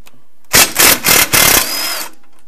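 A 17 mm socket tool spins off the rear strut bolts on a Subaru Crosstrek or Forester during a suspension kit install, giving four loud, close mechanical bursts in quick succession, then a softer whirring tail.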